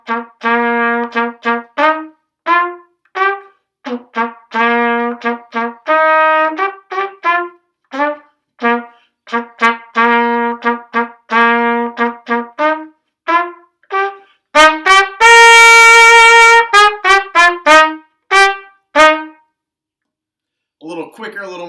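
Trumpet playing the Overture to William Tell at a slow tempo, a series of clear separate notes in a steady march-like rhythm, close and loud, with a brief sustained louder passage near the end, heard alone.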